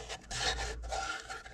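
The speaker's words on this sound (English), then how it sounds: "We're gonna sand from 80 to 400 grit." Sandpaper rubs over soft, punky, partly rotted wood on a lathe-turned woodturning piece, a short rasping scrape that swells and fades in quick strokes, fairly quiet and close.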